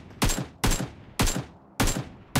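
Gunfire in the mobile battle royale game PUBG Mobile: four loud, evenly spaced bursts of shots, each a sharp crack with a quick double report and short decay, with no talking.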